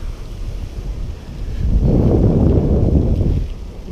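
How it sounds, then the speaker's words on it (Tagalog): Wind buffets a microphone during a bike ride near a dam, a steady low rushing noise that swells into a stronger gust midway and then eases slightly, with no talking. "Uy, sarap ng hangin."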